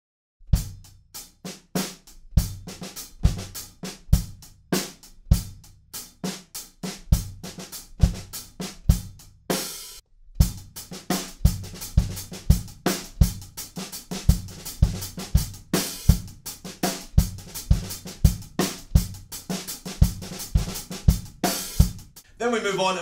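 Drum kit playing the beat of a song, a steady rock groove of punchy kick and crisp snare hits with quick marching-style snare drags woven in, close and loud with no voices.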